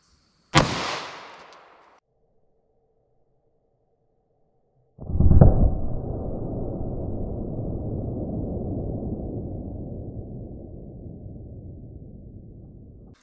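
A 9mm Federal Punch round fired into clear ballistic gel behind denim and fiberboard: one sharp, loud report that decays over about a second, a few seconds of silence, then a second blast followed by a long, rumbling, fading echo.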